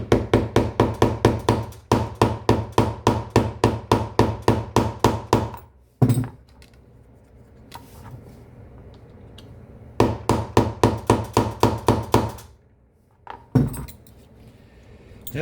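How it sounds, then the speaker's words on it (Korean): Loud, rapid bursts of metal hammer blows on a leather rivet tool, struck in quick rhythmic runs of a dozen or so hits, separated by pauses and a couple of single heavier thuds, close up with no talking. "오늘은 좀 망치 소리가 시끄럽네요."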